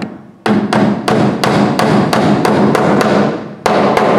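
Hammer blows drive cable staples over electrical wire into a wooden wall stud, about a dozen sharp, loud strikes in a steady, even rhythm, close up with no talking.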